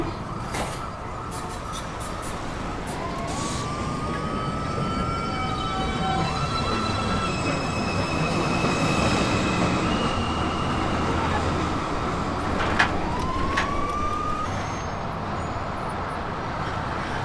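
At 207 Street Station in New York, R142/A and R62/A subway trains grind along the track with drawn-out wheel squeals rising and sliding over a constant rumble, plus a few sharp metallic clanks.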